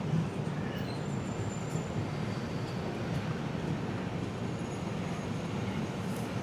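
Humsafar Express train running on rails from Gandhidham toward Shoranur, a steady low rumble of wheels heard from inside the carriage, with a faint, thin squeal now and then.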